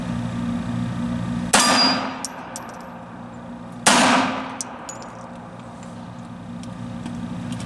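Two sharp metallic clangs from S&W Shield 380EZ pistol rounds striking steel targets, spaced a couple of seconds apart, each ringing briefly over outdoor background noise.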